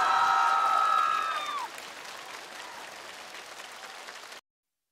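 Audience applause for musicians on a televised band competition stage, a dense crowd clapping loudly that fades to a softer steady clatter, with a sustained musical tone ringing out at the start before cutting off.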